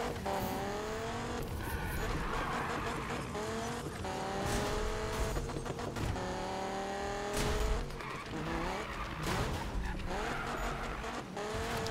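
A car in Need for Speed on PS4 runs a Gymkhana time trial, its engine revving and shifting through repeated tire squeals and skids, loud and continuous. Someone talks now and then over it.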